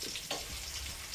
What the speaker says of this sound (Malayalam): അപ്പം ഇനി ബാക്കി കൂടി വറുത്ത് കോരി എടുക്കുക